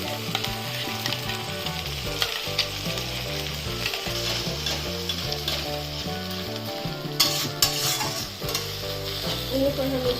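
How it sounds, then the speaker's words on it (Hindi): A ground masala of tomato, ginger, garlic, green chili and onion fries loudly in a pan for rajma masala. It makes a steady, dense sizzle close up, broken by frequent scraping and stirring clatters, with no talking. "यहीं पर हम इसको 5 मिनट तक पनीर मसाला फ्राई करेंगे।"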